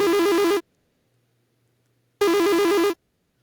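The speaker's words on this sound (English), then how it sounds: "Oh, you're ringing him." A telephone rings twice with a bright, warbling electronic tone. Each ring lasts about half a second, and a long silence separates them.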